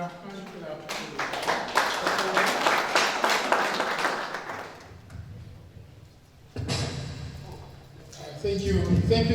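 Audience applause at a 2022 HAQAA II training session, dense clapping for several seconds that fades into quieter room noise and scattered talk, then rises again near the end.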